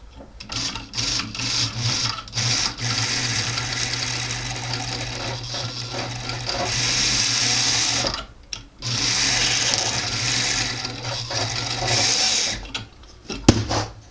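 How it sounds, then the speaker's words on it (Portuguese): Jeweler's rotary tool with a burr cutting a mark into metal: a continuous close whirring grind with a few brief pauses and shifts in pitch. "Venho com a minha fresa aqui. Pode ser uma fresa menor, tá?"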